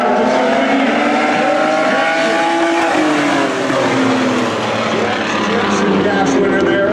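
Old-time race cars come around the track in a loud, continuous roar of engines with rising and falling revs, nearby and filling the whole stretch, while an announcer talks over them.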